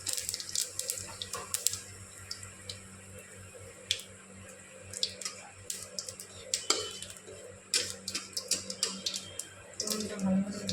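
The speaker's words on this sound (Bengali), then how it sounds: "লঙ্কা আর গোটা জিরে ফোড়ন দিয়ে দেবো।" Dried red chillies and whole cumin seeds sizzle in hot oil in a home kitchen, a continuous crackle with sharp scattered pops at close range.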